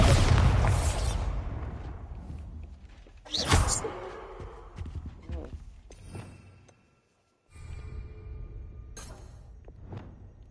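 Spell impacts in Hogwarts Legacy, with a heavy booming blast at the start and another sharp hit partway through, followed by softer thuds and rumbles, a brief silent gap, and spoken voices mixed in.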